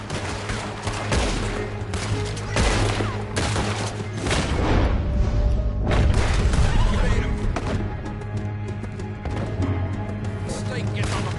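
Gunfire in Red Dead Redemption 2 story mode, a dense chaotic shootout with rapid overlapping shots and booms throughout, a horse whinnying and characters shouting amid the fire.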